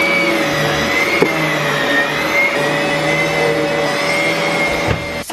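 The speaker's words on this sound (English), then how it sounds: "Vacuuming the floor." A vacuum cleaner runs over a floor in a home, a loud continuous whirring drone held steady throughout with slight shifts in pitch as it moves.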